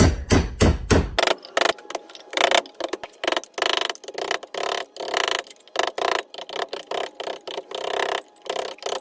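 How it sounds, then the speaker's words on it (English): A sharp cold chisel is hammered against an old blade brake pad from a Craftsman DYS4500, clamped in a vise, to strip the old pad material. Rapid, loud metallic strikes repeat in quick, uneven bursts, close to the microphone. "Take a good sharp cold chisel. And just cold chisel that old off there."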